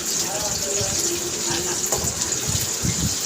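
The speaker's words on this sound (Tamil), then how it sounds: "நான் பெரிய சைஸ் தக்காளியை 3 நல்லா மிக்சியில் அரைச்சி வச்சுருக்கேன், அதையும் ஊற்றிக்கிறேன்." A steady, close gushing pour of blended puree made from three large tomatoes going into a pan of vatha kuzhambu, a continuous wet rush lasting a few seconds.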